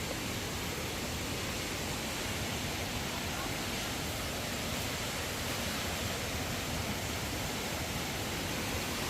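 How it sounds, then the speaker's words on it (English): A large waterfall in a national park, a constant roaring wash of falling water, loud, close and unchanging throughout with no other sounds standing out. "Yeah, it's a pretty big waterfall."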